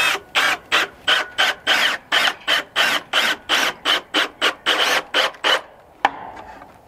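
A power drill drives screws into old wood on a duck house being predator-proofed, giving about fifteen rapid, even bursts of whirring and grinding close up, followed by a sharp click and a quiet pause.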